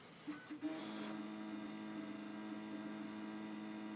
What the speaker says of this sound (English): Here's the machine, scanning away